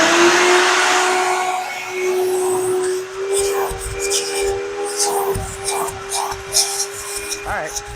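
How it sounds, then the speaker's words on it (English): A vacuum cleaner runs loud and close, giving a steady whining drone over a broad airy hiss. Scrapes and bumps from handling break in partway through. "All right, well, let me get the vacuum here and see what I can do."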